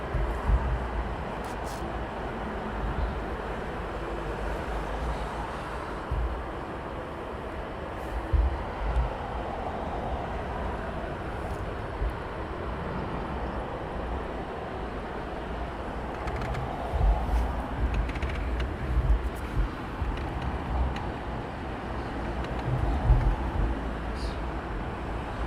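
A heavy Boeing 787 Dreamliner jet arriving on Heathrow runway 27R makes a continuous broad, rumbling roar that holds steady at moderate distance and swells slightly toward the end, with no voices.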